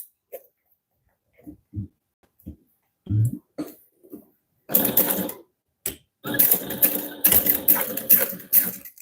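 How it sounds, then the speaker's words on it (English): A sewing machine stitching a vinyl wallet seam, starting with scattered short taps and brief pauses, then running in louder sustained bursts of rapid stitching toward the end. "sew this together using a 1/4 inch seam allowance"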